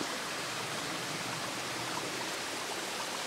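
A stream flows just beside the listener, a steady, close rush of water that holds even and unbroken throughout, with no voices.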